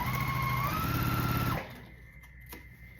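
A sewing machine stitches quilt block seams in a steady, close, whirring run that stops abruptly about halfway through, leaving a quiet room with a faint click.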